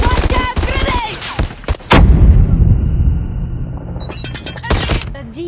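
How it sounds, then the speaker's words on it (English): Grenade blast and rapid gunfire in the Call of Duty Mobile video game: a burst of close shots, then a heavy explosion at about two seconds with a rumbling tail, and more sharp gunfire near the end. "Watch out, grenade!"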